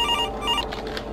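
A telephone rings in Five Nights At Freddy's 3, a fan-made horror game, with a couple of electronic ring bursts sounding clearly over a low ambient hum.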